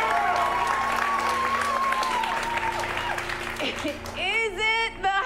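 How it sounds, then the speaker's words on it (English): An audience at an improv comedy show applauds and cheers in a sustained crowd roar, with a voice briefly speaking over the noise near the end. "Applaud the most for the one you want to see the ending of"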